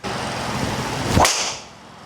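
A single sharp, solid crack of a Callaway Rogue ST driver hitting a golf ball, standing out from steady outdoor background noise before fading.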